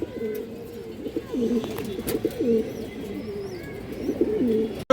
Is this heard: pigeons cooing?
yes